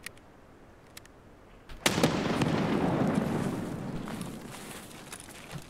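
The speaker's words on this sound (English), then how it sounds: "He just threw a nade like that." A grenade blast in the video game Escape From Tarkov: a few faint clicks and steps, then a sudden loud explosion that rumbles and slowly fades over several seconds.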